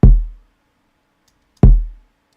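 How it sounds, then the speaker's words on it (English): Two soloed lo-fi hip hop kick drum hits spaced about a second and a half apart, each a punchy low thump with a quick attack and short decay, dry and isolated. "not a lot of tail, which is what I want in like a lo-fi hip-hop or hip-hop kick"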